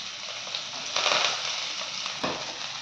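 Curry leaves frying in hot oil with small shallots, a steady close sizzle with a couple of brief louder crackling bursts as the leaves hit the pan.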